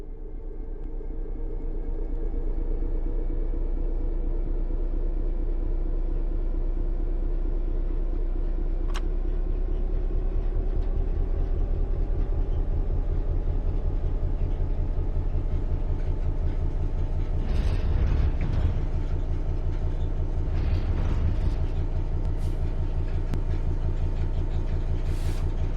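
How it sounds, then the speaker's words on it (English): Train engine in Train Sim World 3 rumbling steadily as it begins to move from a stop, with a low continuous drone that swells slightly and some brief clunks and hisses later on. "Apply some throttle to get the train moving."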